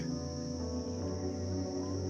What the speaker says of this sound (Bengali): ঝিঝি পোকার ডাক কন্টিনিউয়াসলি কানের কাছে চলে আসছে